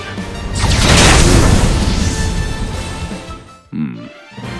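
A fire spell attack in Octopath Traveler II, loud and sustained, with a roaring burst that swells across the first seconds and trails into crackling, then ends in a couple of short heavy impacts.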